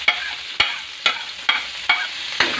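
Onions, garlic and chili frying in oil for spicy pancit canton, a steady close sizzle broken by six regular scraping stirs about half a second apart, with no talking.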